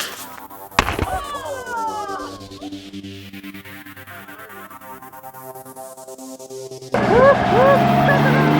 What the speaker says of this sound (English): we're going to blow up a tire and we're going to send it flying into the sky